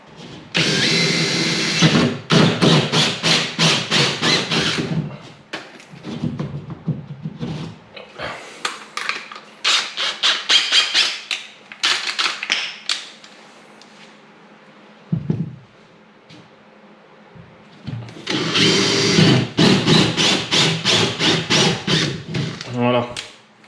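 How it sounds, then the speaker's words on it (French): A power drill with a hole saw whines in several loud bursts, cutting holes for electrical sockets, stopping and starting repeatedly, with quieter pauses between cuts. "Tu viens y passer ta scie cloche."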